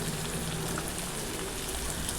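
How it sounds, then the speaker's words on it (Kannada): Chopped onion and tomato frying in a pan with salt for a Kannada-style egg curry, a steady, close, dense sizzle and hiss that holds evenly throughout with no talking. "ಉಪ್ಪು ಹಾಕ್ಕೊಂಡು ಚೆನ್ನಾಗಿ ಫ್ರೈ ಮಾಡ್ಕೊಳ್ಳೋಣ"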